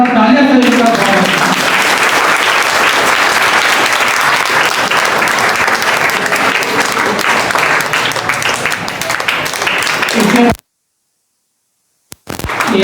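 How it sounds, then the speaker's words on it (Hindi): Loud, sustained applause from an audience welcoming Samaj Ratna award winners at an Independence Day celebration at Ayesha Institute, steady for about ten seconds before cutting to silence, with a brief burst near the end. "इन सभी समाज रत्न पुरस्कार के विजेता को एक बार जोरदार तालियां से इनका स्वागत।"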